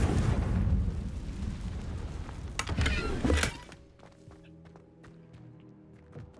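A Confringo blasting spell in Hogwarts Legacy erupts as a loud, roaring blast with a sharp crackling burst near the middle, then decays into quieter rumbling and faint clicks.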